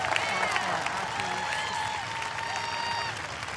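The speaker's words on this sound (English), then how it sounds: "Keep that round of applause going, if you would, for the Madison Police Department Color Guard" Crowd applause and cheering in the arena at the 2022 CrossFit Games, a continuous wash of clapping with voices and calls running through it.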